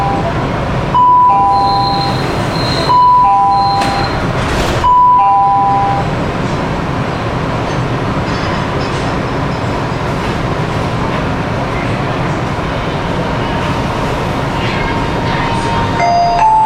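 Wuxi Metro Line 1 underground train pulling away from Cultural Palace Station, a steady rumbling roar of the car with repeated two-tone door chimes and beeps near the start, then continuous rolling noise.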